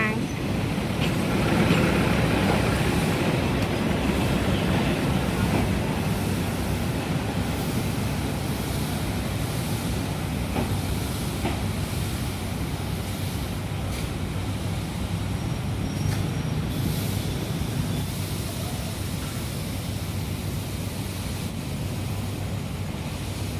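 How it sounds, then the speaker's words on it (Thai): A diesel railcar train on the Nam Tok service pulls into Hua Lamphong station in Bangkok, giving a steady, loud low rumble with broadband station noise throughout, while a voice talks over it. "เป็นรถดีเซลรางนะคะที่เข้ามา"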